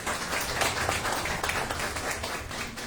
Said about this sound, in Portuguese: palmas para o Bruno.